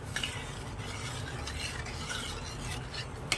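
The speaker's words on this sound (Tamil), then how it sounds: "பால் ஊற்றினதுக்கப்புறம் கட்டி இல்லாமல் நல்லா கலந்து விட்டுக்கோங்க" Milk is stirred into roasted rice in a pan, a soft, steady scraping and swishing of a spoon close by, with a light sizzle underneath and a sharp clink near the end.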